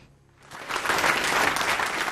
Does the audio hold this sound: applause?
yes